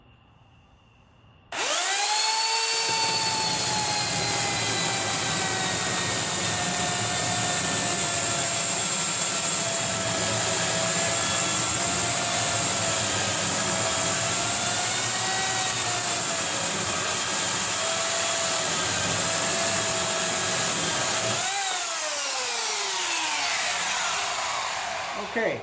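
Freshly sharpened chainsaw cutting through a log, starting up abruptly and roaring steadily at high revs for about twenty seconds, with a brief drop in pitch as it bogs down, then revving again before the end.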